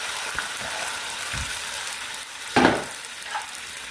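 Soaked rice vermicelli tumbling into a boiling pan for bihun goreng, giving a steady frying sizzle with soft stirring scrapes and one louder splash of noodles hitting the liquid near the middle.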